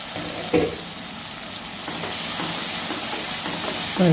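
Tomatoes and onions sauté for a curry: a steady, loud sizzle and hiss from the pan, with a couple of sharper stirring scrapes near the start and end, and no voices.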